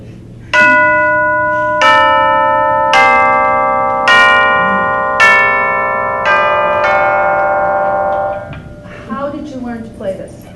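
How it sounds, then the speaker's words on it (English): A series of bright, ringing bell tones struck one after another, about six strikes with sustained overlapping resonance, then fading as soft talk begins near the end. "They're basically like kind of the orchestral bells"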